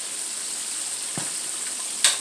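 Pig feet deep frying in hot grease, a steady close sizzle and crackle with one sharper pop near the end.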